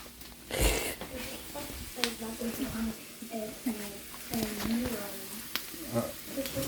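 Ingredients for bomb rice sizzle steadily in a cast iron pan, a continuous frying hiss with scattered pops and clinks, heard up close while someone talks over it.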